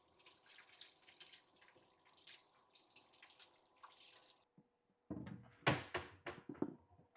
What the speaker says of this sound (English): First thing, wash the potatoes.